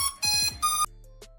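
An Ameta S20 Lite drone plays its power-on startup tune, a bright electronic melody of a few chirping, sweeping tones in two quick bursts, then a faint lingering beep and a soft final blip.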